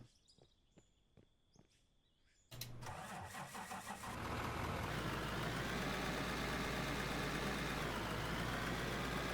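A few footsteps, then the engine of a mining vehicle in the game Out of Ore cranks and starts, rising into a loud, steady, close diesel-like idle rumble that continues to the end.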